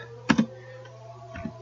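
Two quick pairs of soft keystrokes on a computer keyboard while an SQL select query is typed for a PostgreSQL table, separated by a short pause and sitting over a steady low hum.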